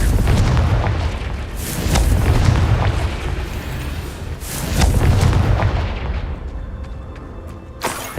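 Confringo fire spell blasts in the Hogwarts Legacy video game, heavy booming explosions landing in a few loud waves over a continuous rumbling battle din.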